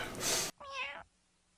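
A short, clear cat meow rises and falls after a brief burst of noise, then quiet follows.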